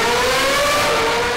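Ferrari 458 Speciale engine giving a loud, steady high-pitched howl that rises slightly in pitch, heard alone and close for a moment.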